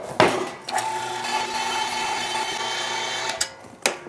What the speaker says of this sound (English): And now that our meat is nice and cold, through the grinder we go.